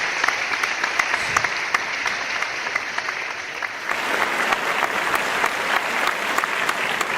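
A recorded crowd-applause effect plays in a radio studio, a steady wash of many hands clapping that swells louder about halfway through and continues without pause.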